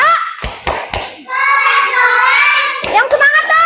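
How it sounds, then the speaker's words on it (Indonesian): A rhythmic class clapping cheer in an elementary classroom: three sharp hand claps, then children's voices chanting together for a few seconds, ending with a few more quick claps and chanting. "Tepuk keren untuk kelompok 2."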